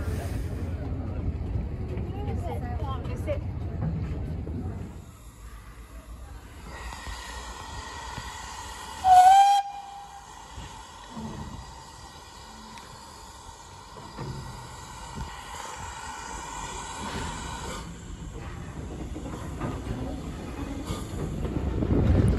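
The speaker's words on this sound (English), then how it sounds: "the train came back along the coastline." A Dartmouth Steam Railway train passes along the coastline, its rumble steady throughout, with one short, loud whistle blast near the middle and the hiss of the train continuing afterward.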